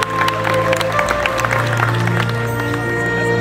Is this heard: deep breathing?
no